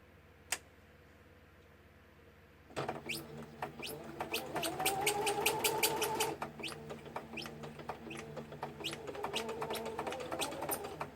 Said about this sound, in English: I think I can sew this.